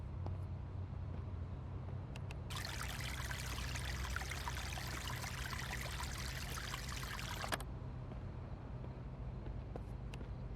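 Water running from a tap while washing in the zombie survival game Vein, a steady hissing stream lasting about five seconds over a quiet background hum.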